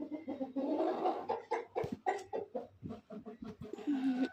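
A rooster clucks and coos in a series of short, close calls, with a few low murmuring notes between them.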